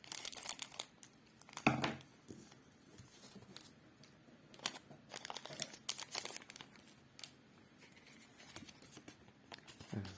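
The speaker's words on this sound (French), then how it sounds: "Je vais aller au ciseau parce qu'ils sont un peu compliqués à ouvrir." A Pokémon booster pack being cut open with scissors and handled, quiet close crinkling of foil wrapper with sharp snips and rustles in irregular bursts.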